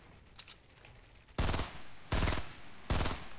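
In Fortnite, a semi-auto weapon fires three loud, sharp shots spaced about three-quarters of a second apart, preceded by faint distant popping.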